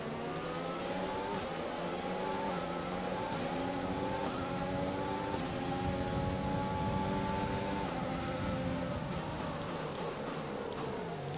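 F1 2020 race cars in the China round, loud continuous engine whine rising and falling in pitch as they accelerate through gears, with a brief wheel-to-wheel contact lost within the steady engine roar.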